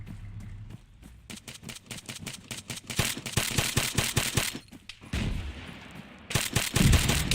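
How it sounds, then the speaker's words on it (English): Arma 3 combat with rapid bursts of automatic gunfire, single shots and a heavy blast from an RPG, dense and loud, with a thudding explosion near the end and no talk. "Oh, that was a straight up RPG."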